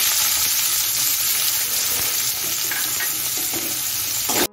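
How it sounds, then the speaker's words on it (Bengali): Chopped onion hits hot oil in a pan, producing a loud, dense, steady sizzle with faint stirring scrapes that runs unbroken until an abrupt stop. "এখন আমি পেঁয়াজ কুচিটা দিয়ে দিচ্ছি"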